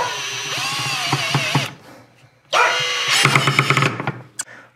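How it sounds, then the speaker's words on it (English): An ENVENTOR 20V cordless drill whines in two bursts while driving a screw, its motor rising and cutting out with stuttering pulses under load, loud and close, with a short click at the end. "I used it as a screw gun, worked perfectly."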